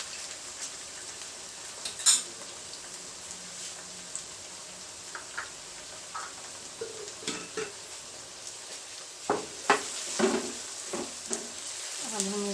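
Ground green chilli paste sizzles softly in a pan while a utensil scrapes and clinks against the metal in irregular bursts, fairly quiet overall with a faint voice briefly in the background.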